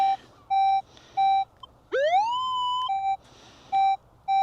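Short, repeated high electronic beeps followed by one longer rising tone that holds steady, a Minelab metal detector signalling a non-iron target, outdoors at Benllech, Anglesey, UK.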